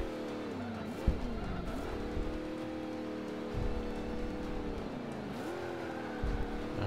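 A Chevy Chevelle in a racing video game roars along with a steady engine drone, its pitch rising and dipping through gear shifts, as tires squeal and skid in short bursts, no voices over it.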